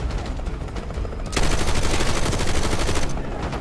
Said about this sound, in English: Or heavy machine gun.